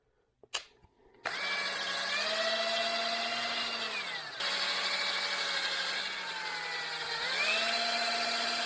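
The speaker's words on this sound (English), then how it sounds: "What I'm going to do is just hit it with a little bit of a Scotch-Brite pad" A Scotch-Brite pad on a power tool scours crust off an engine valve from a 2023 Kawasaki KLX300D with oil starvation, giving a steady whirring, abrasive hum that runs continuously after a brief click, with small pitch dips.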